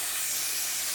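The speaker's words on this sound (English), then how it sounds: "This is like one of the best holding sprays in my opinion." A can of hair holding spray releases one short, continuous hiss onto a red curly lace frontal wig. The hiss is close and steady and stops within a second.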